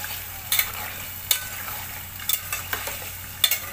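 Chicken liver frying in a pan for kaleji, a continuous close sizzle with repeated clicking stirs of a spoon against the pan scattered through; no talking.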